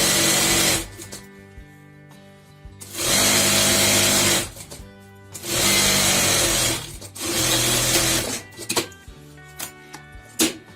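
A sewing machine stitches elastic in several loud, close bursts of rapid motor whirring, with short pauses between runs and some handling clatter toward the end.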